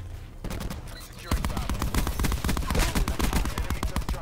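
The Titan LMG in Black Ops 4 opens up in a sustained, rapid burst of automatic fire after a brief quieter lead-in, loud and close, with game sounds beneath.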